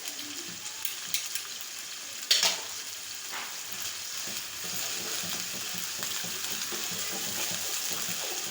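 Garlic and ginger paste frying in a pan while being stirred, a steady close sizzle running throughout with a few scraping stirs and one brief louder clatter, no talking.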